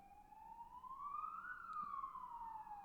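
An ambulance siren sounds outside, a single rising then falling wail that swells as it passes, faint and distant with a low background hum.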